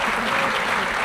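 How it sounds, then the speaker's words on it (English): Brief burst of audience clapping at a sheriff's office annual awards ceremony, welcoming a law enforcement unit; dense, moderately loud applause from a crowd lasting about a second. "I know you're clapping because you don't know"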